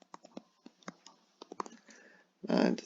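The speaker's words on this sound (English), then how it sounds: "And typing that into our calculator" Calculator buttons pressed in a quick series of soft, sharp clicks, close by and fairly quiet, then a brief louder noisy burst at the end.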